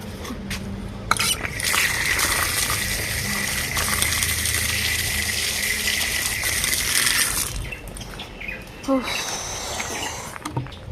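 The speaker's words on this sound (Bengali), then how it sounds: "এখন হাত পাটা ধুই" Water splashing and gushing steadily as hands and feet are washed outdoors after mopping a floor, a continuous broad rush with brief clattering bits near the end.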